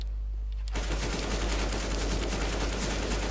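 Rapid automatic gunfire bursts from a Counter-Strike: Global Offensive match, starting abruptly after a brief quiet moment and continuing loud and sustained to the end.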